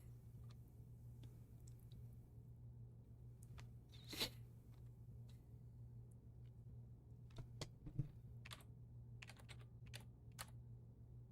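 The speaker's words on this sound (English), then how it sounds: "The game has its own typing noises." In-game typing in the computer game Desktop Explorer: a soft, steady run of keyboard key clicks over a low hum, with a few louder clacks and no talk.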